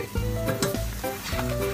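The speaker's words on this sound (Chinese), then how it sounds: "先给它翻一翻面，没有焦的那个就给它按一按。" Breakfast food sizzling in a hot pan as it is flipped and pressed, a loud close frying crackle broken by brief clanks and scrapes of a utensil against the pan.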